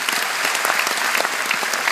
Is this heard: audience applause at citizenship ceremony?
yes